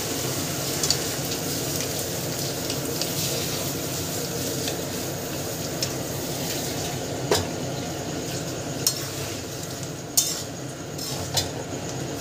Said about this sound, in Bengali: এবারে মশলাটা ভেজে নিলাম, নিয়ে আলু দিচ্ছি